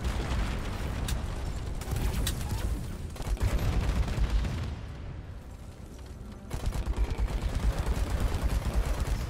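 Rocket barrage in Deep Rock Galactic: a dense, continuous roar of launches and blasts with rattling bursts, briefly thinning before swelling again loud and close.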